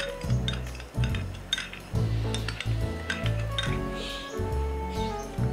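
A spoon stirs boiling milk with custard powder in a pot over a low flame, with clinks and scrapes against the metal repeating steadily over a continuous low hum, no voices.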